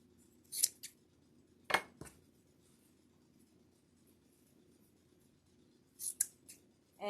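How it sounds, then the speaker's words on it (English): Scissors snip through ribbon in a few quick, sharp cuts shaping a dovetail end, close and crisp with quiet pauses in between. "you just take your ribbon, fold it over, cut from the inside to the out"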